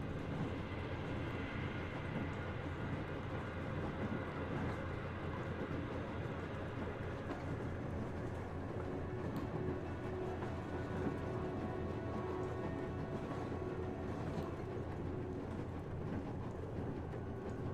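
The Aurora steam-diesel train from Metro Exodus rolls along beside a poisoned sea, giving a steady, dense rumble with a faint rhythmic clatter that runs unbroken and fairly quiet throughout, with no voices.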